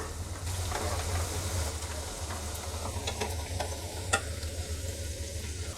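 Onion vadas (Tamil tea-shop style vengaya vadai) fry in hot oil with a steady, close sizzling hiss, broken by a few soft clicks and scrapes as the fritters are turned over.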